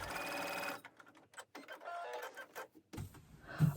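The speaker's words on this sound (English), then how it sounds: "it's important to stay stitch it so that it keeps its shape." A sewing machine stay stitching a bias-cut dress bodice runs in a short burst, then stops and leaves near silence. It resumes briefly at the end.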